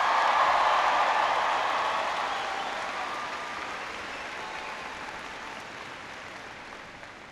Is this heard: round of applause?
yes